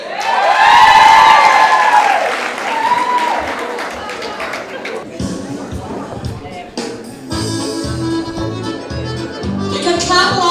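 Crowd noise at a school celebration: cheering and whoops at first, then an audience clapping along in a steady rhythm under music and talking voices.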